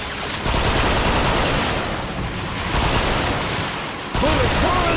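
Dense, continuous gunfire and rocket blasts from the video game Transformers: Fall of Cybertron, a loud unbroken barrage with mechanical clatter that briefly dips and then surges again.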